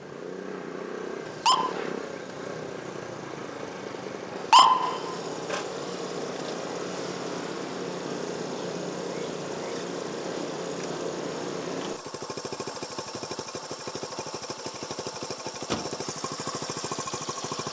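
A motorcycle engine runs steadily near the listener for the whole stretch, with a couple of sharp knocks early on and a rougher, shifted engine tone near the end; a roadside stop in Comfort, Texas.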